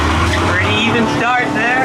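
Engines of a Honda Accord and a Subaru roar hard off the line at a street-legal spectator drag race start, loud and close, with an announcer talking over them.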